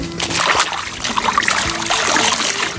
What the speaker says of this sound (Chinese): 清洗配菜